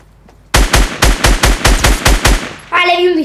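Rapid gunfire in the mobile game Fortnite, played on a Galaxy Note 9: about nine loud, evenly spaced shots in a quick burst, then a short voiced sound.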